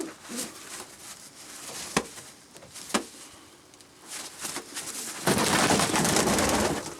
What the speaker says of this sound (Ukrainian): Це голуб пару штук голубок